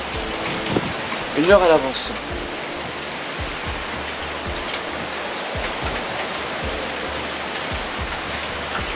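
Rain falls steadily with gusting wind in the open at Le Rocher des Druides, a continuous wash of drops throughout, with a person speaking briefly near the start over it.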